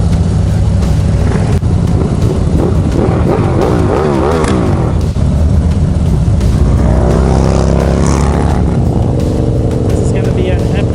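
A large solidarity rally of motorcycles on a group ride makes a loud, continuous roar of engines close by, rising and falling, with wind buffeting and a rider talking over it.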